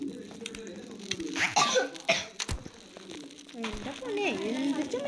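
A person coughing in bursts after a DJ night, several harsh close coughs mixed with laughter, with voices talking around them.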